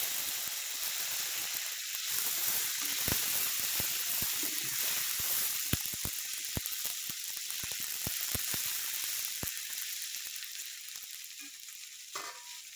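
Cumin seeds and chopped tomatoes fry in hot oil with a steady, loud sizzle, broken by sharp ticks and crackles and occasional stirring scrapes, with no voices.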